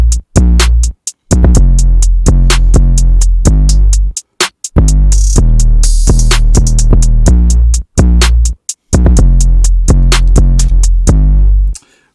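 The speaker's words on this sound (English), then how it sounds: "808 and all the drums together sound like this." A hip-hop type beat with a booming 808 bass under punchy kicks, snares and fast hi-hats, playing loud and dense in repeating bars, with brief dropouts and gaps breaking the groove.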